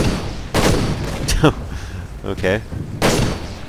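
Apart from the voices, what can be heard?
gunfire in the video game Toy Soldiers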